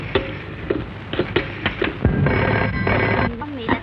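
A telephone rings in a tense indoor scene, repeated bursts of ringing sounding close and fairly loud, with other sounds mixed in around it.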